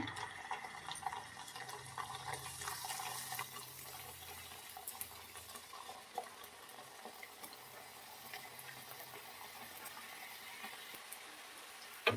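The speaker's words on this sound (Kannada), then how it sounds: "ಎಣ್ಣೆಕಾಯಿ ಇಟ್ಕೊಂಡಿದ್ದೀನಿ ಇದನ್ನು ಹಾಕಿ ಬೇಯಿಸ್ಕೊಳ್ತೀನಿ" Pieces of chiroti dough fry in hot oil over a low flame for traditional chiroti payasa, giving a steady, soft sizzle with scattered fine crackles throughout, fairly faint and without any talking.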